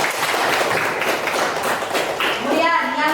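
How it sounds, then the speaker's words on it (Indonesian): Students clap together in a school classroom during a lesson, a dense, fairly loud stretch of clapping with children's voices talking over it. "Tepuk tangan untuk Muhammad Rifa."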